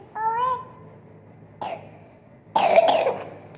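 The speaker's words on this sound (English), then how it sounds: "He's coughing." A voice whines briefly, then a short cough follows, and after a pause a louder, harsher cough comes close by.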